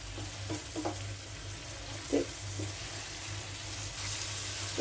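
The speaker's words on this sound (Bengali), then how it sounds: "তেলের সাথে কিছুক্ষণ ভাজতে হবে চিংড়িগুলো।" Small shrimp fry in hot oil with chopped green chillies, giving a steady close sizzle broken by a few soft knocks from stirring. No one speaks.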